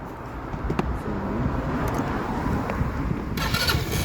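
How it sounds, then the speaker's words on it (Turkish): A motorcycle engine starting up before it is used to jump-start a car, a brief starter crank followed by a rough mid-pitched engine rumble, close and fairly loud. "Önce bir motorumuzu çalıştıralım."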